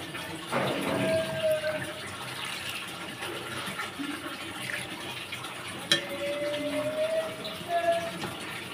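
Water pours into a pan of fish curry in a Bangladeshi home kitchen, a fairly faint trickling splash with a couple of louder knocks and a light clink, under low background noise.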